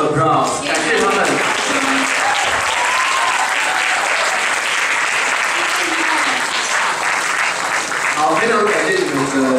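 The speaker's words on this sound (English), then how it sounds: "And please give them a round of applause." Dense, sustained audience applause at a university farewell banquet fills the room loudly for several seconds, with speech faintly audible at the start and end.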